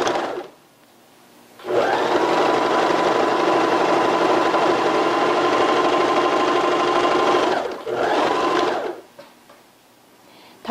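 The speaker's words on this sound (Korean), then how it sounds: "앞판과 뒷판을 옆선 박음질 하겠습니다." A sewing machine runs a long, loud, steady burst of stitching along the side seam joining front and back panels of a leggings skirt, stops briefly, then runs a short second burst before falling quiet.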